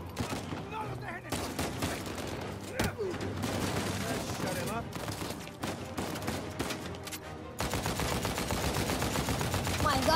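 Rapid gunfire from a handgun or rifle in Uncharted 4, dense overlapping shots crackling loud and close for about ten seconds, with a voice talking over part of it.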